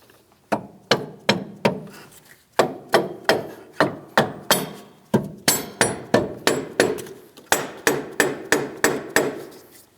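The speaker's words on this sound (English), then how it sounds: "We can lightly tap this into position." A hammer taps a transmission mount into position on a 2007-2014 Ford Edge 3.5L V6, sharp, close, evenly spaced metallic strikes in quick bursts of several blows with short pauses between.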